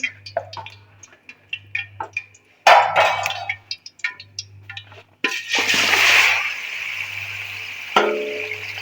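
Mutton pieces dropped into hot ghee in a karahi, giving a sudden loud splash and crackling sizzle that swells and lingers, alongside clinks and taps from the pan, with a low steady hum underneath.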